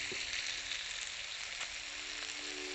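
Chopped tomatoes and onions frying in a pan, a steady close sizzle that hisses on continuously and alone, with faint stirring.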